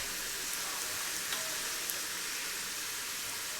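Onions fry in oil for a daal tadka, giving a steady, dense sizzle that stays even throughout, close and moderately loud with no talking.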